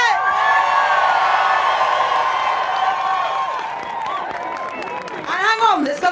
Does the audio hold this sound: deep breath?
no